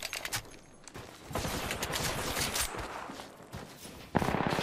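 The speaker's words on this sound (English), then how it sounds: "I'm literally shooting right now." Rapid bursts of automatic gunfire in the video game Apex Legends, loud and dense with repeated shots and a sharp new volley near the end, with no talking.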